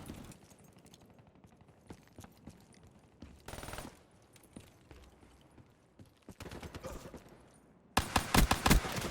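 Pistol gunfire in a video game: scattered sharp shots and clicks over a busy game background, building to a loud cluster of rapid reports in the last second.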